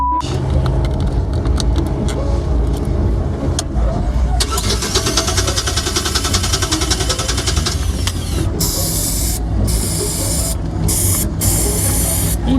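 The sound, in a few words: spraying aerosol carb cleaner into boat carburetor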